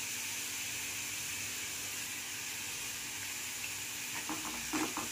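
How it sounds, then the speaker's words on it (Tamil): Beetroot sautéing with salt in a pan for chutney gives a steady, close sizzling hiss that holds throughout, with a few louder stirring scrapes near the end and no talk. "பீட்ரூட் கொஞ்சம் நல்லா வதங்கணும்"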